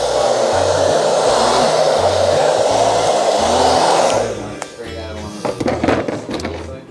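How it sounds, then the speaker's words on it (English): Hair dryer blowing loud and close while drying a trimmed beard at a barbershop, roaring steadily for about four seconds before shutting off, followed by clicks and handling noise. "we're gonna blow dry them off"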